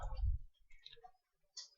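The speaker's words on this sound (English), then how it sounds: "I click outside where the checkbox will automatically lock here" One soft mouse click outside an Excel checkbox, followed by faint, scattered ticks in a quiet room.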